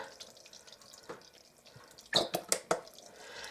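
Zesty Italian dressing is poured over chicken and sauerkraut, giving soft liquid splashes and drips with a few sharper splatters near the end, fairly quiet and close.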